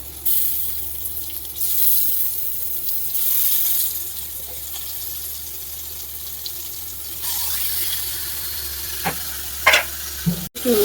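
Turmeric-coated Bombay duck (lote fish) sizzles in hot oil on a gas stove, a steady close frying hiss with a few sharper spatters and clinks toward the end.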